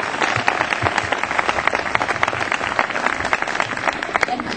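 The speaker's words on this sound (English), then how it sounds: "join me in a round of applause for Amy for the great work that she does." An audience at an event in Helena, Alabama breaks into a round of applause, a dense steady patter of many hands clapping at moderate loudness, with some crowd murmur beneath.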